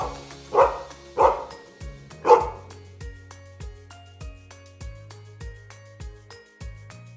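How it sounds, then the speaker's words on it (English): A dog barks three times in quick, evenly spaced yaps over a steady bouncy children's-song backing, close and clear. "It was a dog."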